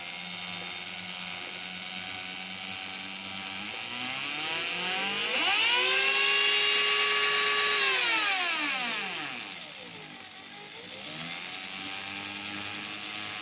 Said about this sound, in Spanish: Vamos a ver cómo cuando le doy al taladro